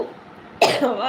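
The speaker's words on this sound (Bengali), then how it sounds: "কাশি হচ্ছে" A single sharp cough bursts out near the end of a brief, quiet moment, close and loud.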